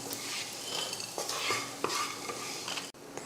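Whole spices being stirred and scraped around a hot pan with a utensil, a steady dry rattle and light sizzle with a few sharper clinks of metal against the pan, close and continuous, no voices.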